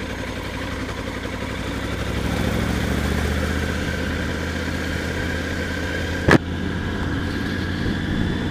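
A Triumph Tiger 900 GT Pro motorcycle pulls from low revs around 1600 rpm, its engine hum building slightly and holding steady and close, with a short sharp click partway through.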